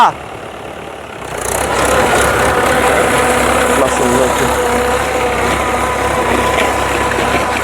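A tractor engine runs steadily under manual steering while ploughing a farm field, a continuous mid-low drone that steps up after a second and holds at a near, even level.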